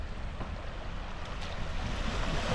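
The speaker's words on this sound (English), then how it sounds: "Got a little bit of a water crossing." A Toyota Camry pushes through a water crossing in South Florida, giving a steady rushing, sloshing wash of water and road noise that swells slightly toward the end, with no talking.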